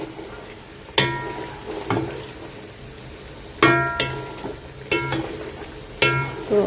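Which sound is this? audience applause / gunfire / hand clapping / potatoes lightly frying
potatoes lightly frying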